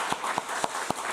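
A church congregation at a Sunday service applauds the pastor, a faint, even wash of clapping with a few sharper claps cutting through at a steady pace.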